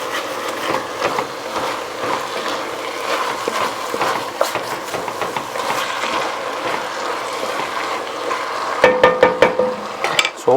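Ground beef for chili browning in a pot, stirred and scraped with a utensil: steady sizzling under repeated rubbing and scraping strokes, ending in a burst of louder clattering scrapes.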